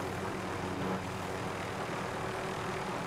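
A helicopter engine in a video game drones steadily and loudly with a constant rotor-like hum that holds evenly from start to finish, with no talking.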